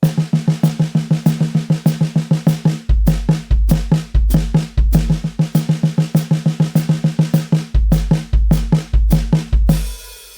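Close drum kit playing rapid sixteenth-note hi-hat patterns that alternate with triplet passages over pounding bass drum, ending with a cymbal wash.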